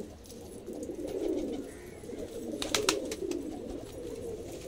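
Kala bhavra, anara and Patiala pigeons coo in a low, continuous murmur, soft and somewhat distant, with a brief clatter midway.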